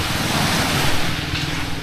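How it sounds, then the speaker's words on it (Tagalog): Strong ocean waves break at Saud Beach in Pagudpud, Ilocos Norte, a steady broadband roar of surf with wind, loud and continuous with no pauses. "napakalakas pa rin ng alon"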